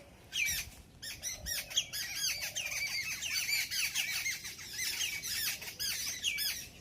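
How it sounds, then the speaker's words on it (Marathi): A noisy flock of birds at a farmhouse squawks and chatters continuously, many shrill calls overlapping at close range. "का ह्यांचा एवढा गोंधळ चाललाय त्यांनाच माहिती आहे, या पक्ष्यांना."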